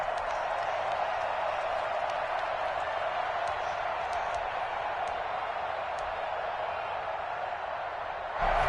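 Football stadium crowd at a Panthers game roaring and applauding in a steady, dense wash of cheering that holds throughout, with a brief louder swell at the very end.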